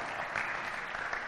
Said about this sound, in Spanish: Aplauso a nuestra compañera.